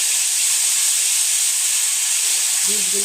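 Pointed gourd seed paste drops into hot oil with cumin seeds, giving a loud, continuous hissing sizzle up close that holds steady throughout, with a faint voice murmuring near the end.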